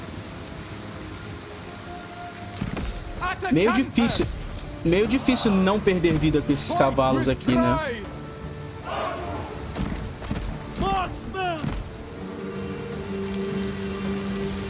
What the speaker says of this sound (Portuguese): A chuva atrapalha para um caramba, né?